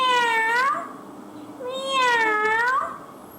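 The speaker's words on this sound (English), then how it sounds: "How do you speak the cat? Cat voice." Two drawn-out cat meows, each rising then falling in pitch, close and clear with a short pause between them and no talking.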